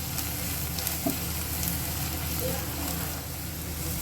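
Onions frying in a pan with coriander-cumin powder and red chili masala, a steady dense sizzle running throughout at close range, with faint stirring bumps and no talk.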